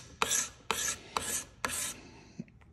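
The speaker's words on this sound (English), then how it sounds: "Card scrapers can go against the grain, they can go with the grain, but I found if you go with the grain, you get a better finish" A card scraper draws along a wooden axe handle with the grain in four close, rasping strokes with short pauses between them, heard alone.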